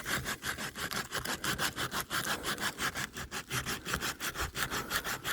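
A boat hull is sanded by hand at the stern, a steady back-and-forth rasping close up with an even stroke rhythm that continues throughout with no talking.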